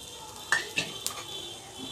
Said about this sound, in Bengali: পেঁয়াজ আর রসুন এখানে দেওয়ার পর খুব ভালোভাবে এটা ভেজে নিতে হবে।